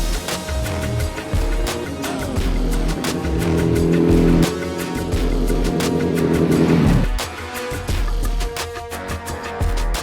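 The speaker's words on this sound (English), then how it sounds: "This is the 2010 Suzuki Hayabusa, what I'm riding right now" A 2010 Suzuki Hayabusa with its 1340 cc engine runs loud and close while being ridden, its tone rising and holding through sustained revs and dropping sharply near the middle, with gear-change pauses and wind buffeting throughout.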